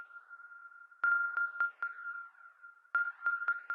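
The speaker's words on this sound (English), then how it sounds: "I added these like kind of bouncy notes, and that's just with Ableton's own electric piano organ preset." Ableton Live's electric piano organ preset plays short bouncy repeated notes on one steady pitch in a chilled UK garage track, with a sharp attack on each note and slight phasing, heard alone.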